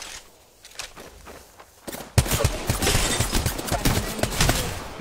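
Rapid bursts of gunfire in the video game Apex Legends, quiet and scattered at first, then loud, dense volleys crackling close by after about two seconds, with no talking.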